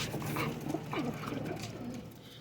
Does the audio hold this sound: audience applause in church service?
no